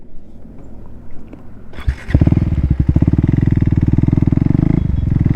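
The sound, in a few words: KTM Duke 390 motorcycle riding off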